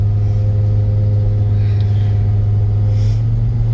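A 2004 Volvo XC90 pulling off on a drive, heard from inside as a loud, steady low engine hum and road rumble with no talking.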